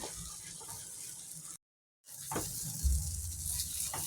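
Thick ragi halwa cooking in ghee is stirred with a steady hiss and soft scraping, cut by a short silent gap before the stirring resumes. No one is talking.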